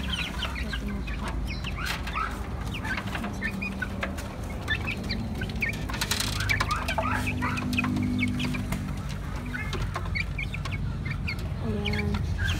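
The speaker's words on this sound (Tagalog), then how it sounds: "May native na manok." Native chickens cluck steadily and close by in a rural yard, with overlapping calls from several birds over a constant low background hum.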